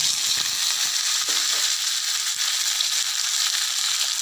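Chopped shallots and curry leaves fry in hot coconut oil with mustard seeds, a loud, steady close-up sizzle with faint crackles and pops throughout, no talk.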